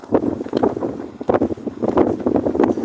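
Heavy wind blows straight into a microphone outdoors, a steady loud rumble with repeated gust swells and no speech audible.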